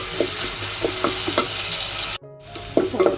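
Salted onions fry toward deep golden brown in a pan for a pui shak dish, producing a loud, dense sizzle with repeated stirring scrapes. The sizzle cuts out for a moment and then resumes.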